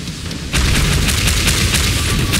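Sudden burst of gunfire in the arena shooter Shootmania Royal, a rapid run of loud booming shots starting half a second in and continuing steadily to the end over a dense rumble.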